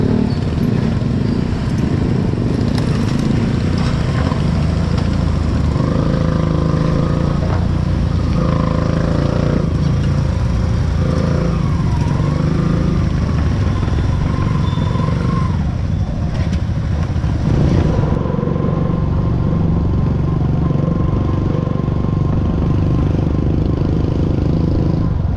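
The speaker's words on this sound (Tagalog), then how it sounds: "Traffic pa." Road traffic with motorcycles passing produces a continuous loud rumble of engines and vehicles, with occasional clatter and scraping mixed in.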